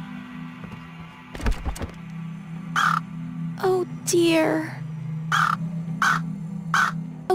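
Crows caw repeatedly in the point-and-click game Anna's Quest, a series of sharp, evenly spaced calls over a steady low ambient hum, with a brief voice exclaiming in between.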